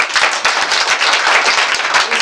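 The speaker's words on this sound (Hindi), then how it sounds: "ताली बजाया जोर से" A church congregation clapping loudly together, a close, rapid and steady burst of applause with many hands striking in quick rhythm.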